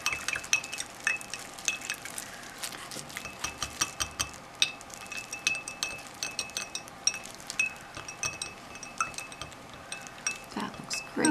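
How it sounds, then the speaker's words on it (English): A spoon stirring diluted Wilton gel food coloring for yarn dyeing, with rapid close clinks and scrapes against the container in an irregular rhythm. "I'm going to keep stirring"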